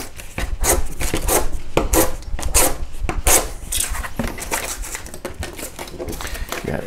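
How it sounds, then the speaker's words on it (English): A Kershaw Launch 4 knife slices through cardboard, making rapid, rhythmic, close rasping strokes in quick succession. "Cardboard. We always got to test cardboard, of course."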